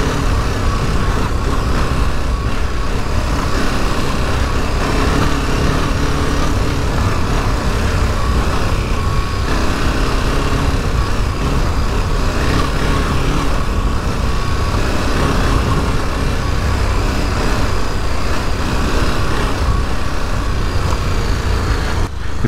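KTM 1290 Super Adventure R motorcycle being ridden, a constant loud engine and wind roar with no clear breaks, heard alone without talk.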